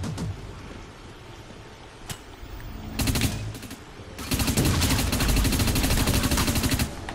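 Rapid bursts of gunfire in the online shooter Dust 514, scattered single shots first, then a sustained loud automatic stretch from about four seconds to the end, close and dense.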